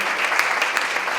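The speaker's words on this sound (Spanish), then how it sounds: "Un aplauso a todos por su participación en este bloque" Audience applause at a university debate between Senate candidates, a steady, dense clatter of many hands clapping throughout, fairly close and even in loudness.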